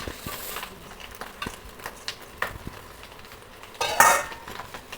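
Chow mein stir-fried in a pan after eggs, with scraping and clinking of a utensil against the pan, soft sizzling underneath, and a louder clattering burst near the end.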